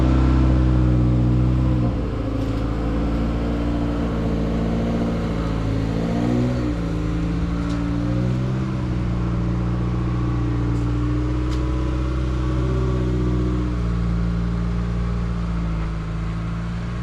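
A 2006 Citroën C1 engine running in a garage as the car is shuffled around, a steady mid-pitched hum with a few brief revs and changes in load early on, fairly loud and constant throughout.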